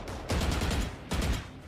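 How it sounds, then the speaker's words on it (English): Gunfire exchanged mid-map during a collegiate esports match between Boise State and Oregon State comes as two dense, crackling bursts of rapid shots, loud and close, with no commentary over it. "A little bit of gunfire being exchanged in mid."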